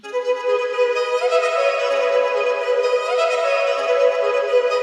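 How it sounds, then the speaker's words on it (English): A sustained, bowed string melody from the Spitfire Audio Orbis folk violin sample library, smooth and steady, gently sliding between notes on its own without any voices. "sort of a folk violin"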